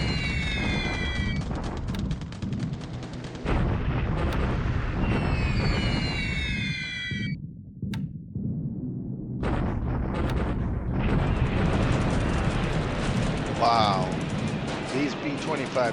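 Aircraft strafing attack in the War in the Pacific Admiral Edition game, with dense rolling gunfire and explosion bursts, loud and nearly continuous, interrupted by a short quieter gap before the barrage resumes.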